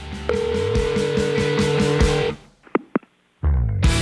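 A voicemail system plays an electronic tone sequence: a sustained steady beep over a musical jingle, a brief drop-out, a few short sharp blips, then the tone resumes loudly at the end.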